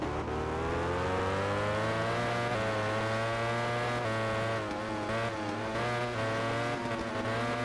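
A MotoGP racing motorcycle in the video game MotoGP 13 screams at high revs, its engine pitch climbing steadily through the gears with brief dips at each shift, loud and continuous.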